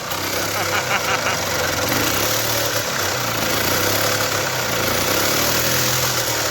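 A car doing a burnout gives off a loud, continuous engine roar that holds a steady, heavy drone throughout with no pauses.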